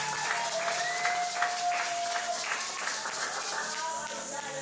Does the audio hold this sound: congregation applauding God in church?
yes